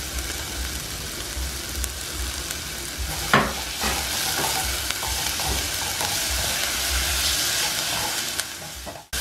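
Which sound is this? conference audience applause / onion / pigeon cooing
onion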